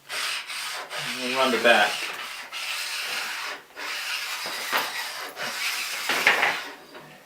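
Ice skate blade honed on the coarse side of a sharpening stone, giving steady rubbing, rasping strokes in repeated passes at close range, with a brief spoken phrase partway through.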